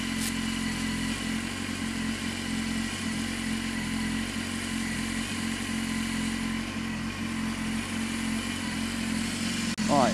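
A 2015 BMW S1000RR motorcycle engine idles steadily while warming up, a continuous close, even rumble with a slight rise at the very end.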